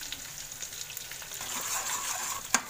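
Masala with garam masala and coriander powder frying in oil for butter chicken gravy, a steady close sizzle with light stirring scrapes and one sharper clink near the end.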